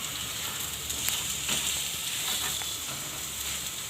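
Potato filling for aloo kachori frying in a pan over a low flame, with a continuous close sizzle and a few faint stirring scrapes, no voices.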